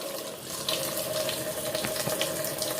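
A makeup brush is rinsed under a running bathroom tap, giving a steady close stream of water hissing and splashing into a sink with small shifts as the brush moves through the flow.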